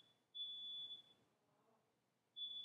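A smoke alarm set off by burnt food in a home, sounding steady high-pitched beeps: one long tone, a pause, then another starting, faint and at a distance.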